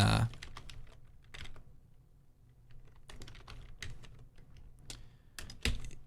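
Keys tapped on a computer keyboard while entering expressions, in irregular bursts of close, crisp clicks separated by short pauses, with no talking.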